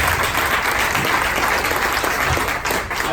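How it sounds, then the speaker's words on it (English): An audience at a Southern California real estate broker panel breaks into sustained, dense applause, loud and close, clapping continuously throughout with a faint crowd murmur. "let's give him a big round of applause"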